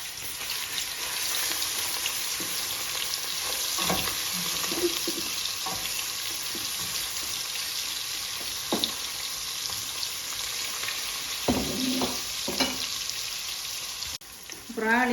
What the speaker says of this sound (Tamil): இதை கொஞ்சம் பொரிச்செடுக்க போகிறேன்